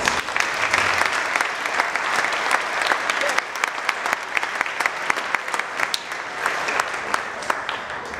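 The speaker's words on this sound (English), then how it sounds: "let's give them one more round of applause" A crowd at an athletic hall of fame ceremony applauds with dense, sustained clapping that stays loud and even throughout, with a few louder claps standing out.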